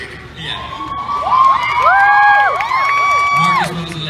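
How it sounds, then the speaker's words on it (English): A live audience at a Dan & Phil show at VidCon 2016 cheers and whoops loudly, with shrill whistles rising and falling over a dense crowd roar for about four seconds. "Let's see the people clapping for the wig."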